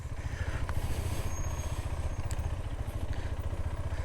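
A KTM adventure motorcycle rides off-road in Kotagiri, its engine a steady low, throbbing drone at a fairly faint level with occasional light clatter.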